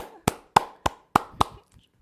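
Five sharp, evenly spaced claps from a pair of hands, close and fairly loud, each a distinct crack with short pauses between, trailing off into quiet.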